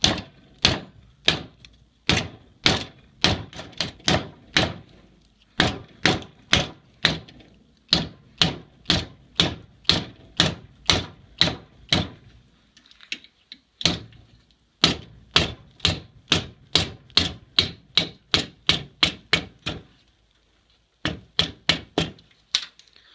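A riven 3/8-inch hickory peg is pounded through a steel plate held in a vise, giving dozens of loud, ringing hammer blows in quick rhythmic runs separated by brief pauses.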